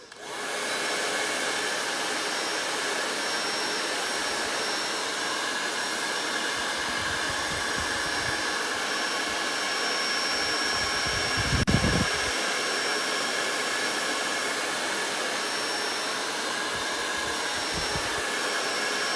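A hair dryer blowing steadily on a welcome wreath, a continuous loud whooshing whir running close and unbroken throughout, with a few faint handling bumps and no speech.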